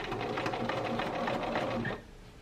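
A sewing machine base stitches petal sleeves in a rapid, close, steady mechanical whir for about two seconds, then stops abruptly.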